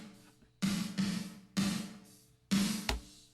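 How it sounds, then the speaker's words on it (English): Isolated snare reverb from Slate Verb Tweet Classics sounds as four bright, washy bursts, each swelling suddenly and decaying over roughly half a second, with no dry instruments. "And that reverb on its own sounds like this."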